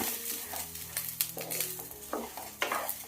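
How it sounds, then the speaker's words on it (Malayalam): Ration rice is dry-roasted in a pan while being stirred, giving a quiet close sizzle with repeated soft scraping and grainy rustling strokes. "ഇനി ഇത് നന്നായിട്ടൊന്ന് വറുത്തെടുക്കാം"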